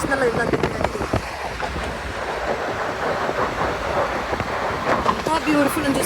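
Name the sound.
train passing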